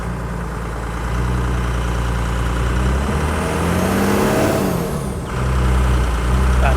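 A Toyota HJ75 Troopy engine runs loud and close throughout, a dense droning rumble that climbs in pitch as it revs, dips sharply, then settles back into a steady heavy drone.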